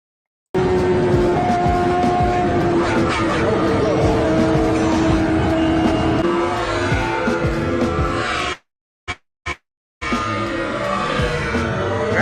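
Motorcycles in a drag race roar loud and close with a high, sustained engine whine. The sound cuts out abruptly near the end, then returns in short bursts.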